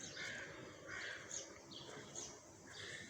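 Birds kept at Bethesda to scare away pigeons give repeated faint caws at a distance, several calls spaced across a quiet outdoor background with no talking.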